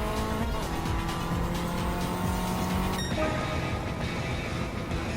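A Renault R8 Turbo race car runs in the video game Gran Turismo 7, with a loud, continuous engine drone, tire squeal and some tonal whines that drop away about three seconds in.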